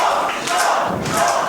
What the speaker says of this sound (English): Crowd is very much behind Roth